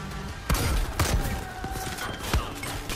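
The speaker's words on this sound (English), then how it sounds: "Who's shooting me?" Enemy gunfire in the video game Far Cry 5, several sharp shots spread over a few seconds amid a busy game soundscape, coming from a distance.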